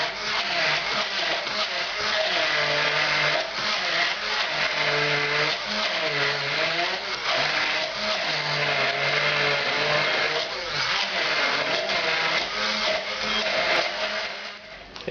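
A blender grinds onion and shallot into a puree, running loud and continuous for the whole stretch with a whirring drone whose pitch wavers as the contents churn.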